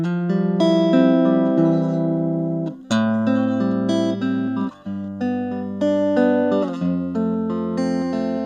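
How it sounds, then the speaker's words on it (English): A Danelectro electric guitar played with a clean tone through a new Fender Blackface Deluxe amp, ringing out sustained chords that change every second or two, loud and close with no talking. "I'm using my Dan Electro guitar and the brand new Fender Blackface Deluxe amp. This is my clean tone."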